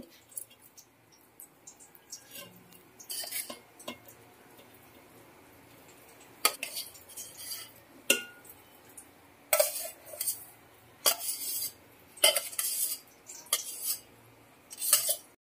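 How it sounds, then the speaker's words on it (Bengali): A utensil scrapes and clinks against a pot of fried rice in irregular strokes, quiet at first and then louder, sharper scraping bursts close by. "এবার আলতো হাতে হাঁড়িটাকে একটু এভাবে নাড়িয়ে দেব।"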